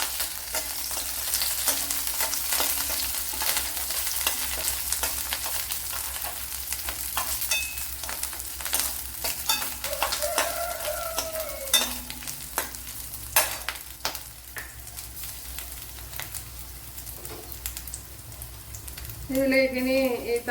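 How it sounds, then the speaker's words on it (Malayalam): Green chillies and garlic sizzle in hot oil for a tomato curry, a soft, steady frying hiss broken by occasional stirring clinks and scrapes, fairly quiet and close. "2 പച്ചമുളക്, അതുപോലെ ഒരു ഇതുപോലത്തെ മുളക്, ശകലം കറിയിൽ ഇട്ടിട്ട് കൊടുക്കുക."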